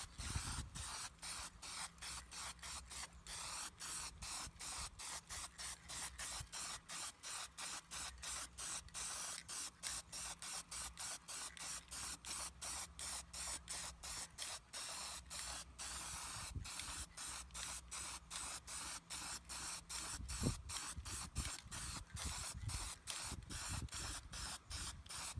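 Aerosol spray paint hissing steadily over an alloy wheel during a wet coat, a long continuous spray broken into rapid short bursts, close and loud with no talking.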